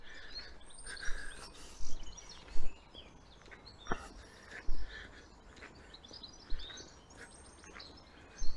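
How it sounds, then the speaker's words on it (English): Seagull calls ring out at intervals, short sharp cries a few seconds apart over a steady low outdoor traffic rumble, in Wales. "Someone's left the rubbish out and all the seagulls are eating it."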